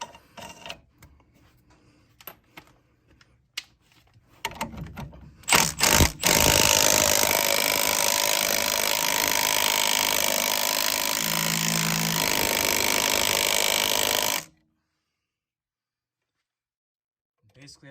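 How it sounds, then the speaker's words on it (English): A power tool tightens a bolt on a 2010 5.7 Hemi engine fitted in a 2011 Charger: scattered ticks and clicks at first, then a loud, sustained whirring drive for about eight seconds that stops abruptly into silence. "Basically, I'm just tightening it until this little gap goes away"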